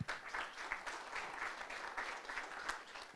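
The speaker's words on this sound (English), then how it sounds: "Let's warm him up and give him a nice round of applause." Hall audience at a road-safety infrastructure conference clapping to welcome a World Bank transport specialist, a fairly faint but steady patter of many hands that carries evenly from start to finish.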